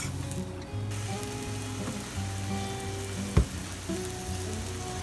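Sweet potato flatbread fries in olive oil in a pan, a steady close sizzle with a low mechanical hum beneath and one sharp knock partway through.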